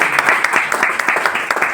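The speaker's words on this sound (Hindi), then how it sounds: "हरजीत कौर जी, तालियां बजा दें इनके।" Short burst of audience applause at a group meeting honoring a member named Harjeet Kaur, steady dense clapping filling the clip at close range with no break.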